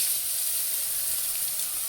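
Pieces of pointed gourd (potol) frying in a pan for a fish curry give off a steady, close, even sizzle and hiss throughout, with no talking.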